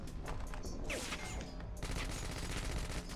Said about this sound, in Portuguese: Gilzinho, tu tá errando tiro